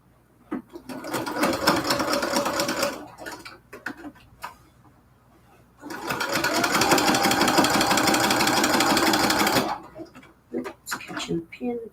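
Home sewing machine stitching Cathedral Window quilt curtains, catching on a pin, two loud runs of rapid rhythmic mechanical clatter with a steady motor whir, separated by a pause, with someone talking at the start and end.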